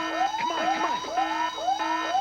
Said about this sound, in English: Sound alarm.